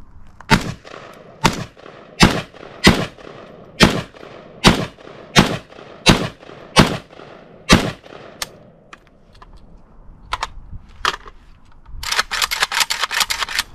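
A series of about ten sharp shots from a Saiga MKK 104 rifle in 7.62, at even intervals, loud and cracking with a short echo, followed by faint clicks and a burst of rapid snaps.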